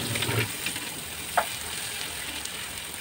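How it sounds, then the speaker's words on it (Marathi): Onion and small finely chopped tomato sautéing in a pan for bheja fry with peas, giving a soft, steady low sizzle with a brief stir at the start and one light utensil tap, no talk. "बारीक चिरलेला छोटा टमॅटो घालून तोही मऊ होईपर्यंत परतून घेऊया."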